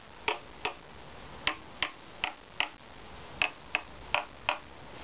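About a dozen close, dry taps on the treated half of a guitar top plate finished with two coats of propolis and two applications of Dutch rush, each brief and woody, spaced irregularly with nothing else heard.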